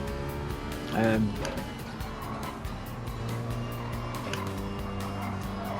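Race car in Gran Turismo 7 on a warm-up lap: steady engine drone with a brief louder rev and gear-change burst early, then continuous mid-level motor hum with faint tire noise throughout.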